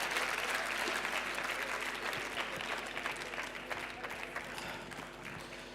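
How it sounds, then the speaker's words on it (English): Sustained audience applause on stage at a live event, a dense, steady wash of many hands clapping that holds at an even level for several seconds before easing slightly, with no talking over it. "give them a very big round of applause for their courage"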